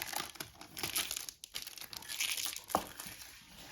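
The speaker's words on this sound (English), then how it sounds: "I'm just going to go ahead and take that protective layer off" Protective film is peeled from the plastic wing of a Team Associated B7 RC car, giving close, quiet crinkling and tearing with a few sharper crackles and a brief pause partway.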